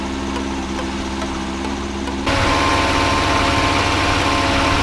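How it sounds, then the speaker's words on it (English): A 1989 Lotus Esprit engine idles steadily up close with a constant low hum, then a sudden step up in loudness and roughness partway through. "We'll let that idle for a few minutes"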